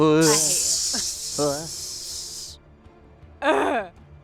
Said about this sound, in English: I'm just spraying axe